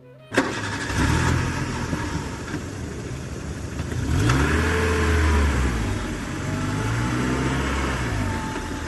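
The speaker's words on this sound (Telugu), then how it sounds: "కారు నెమ్మదిగా కదిలింది" A car engine cranks and catches, then settles into a steady mid-pitched running note that rises and falls as the vehicle pulls away slowly, close and loud with no talk.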